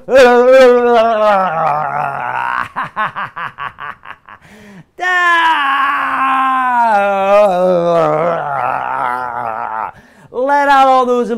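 A group of people screams and yells loudly in a cathartic release exercise, with long, wavering, overlapping voices, a stretch of choppy bursts and a brief pause, then more sustained screaming.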